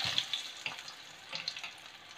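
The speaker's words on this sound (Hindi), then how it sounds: "अब दूसरा घान भी हम डाल लेते हैं, आंच को मैं धीमा कर देती हूँ।" A second batch of muthiya snacks frying in a pan over low heat, giving a faint, steady sizzle with small crackling pops and no talking.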